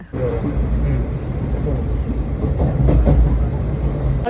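A crowded passenger train rumbles at Shoranur railway station, with a steady low roar and faint clattering, and people talking nearby over the noise.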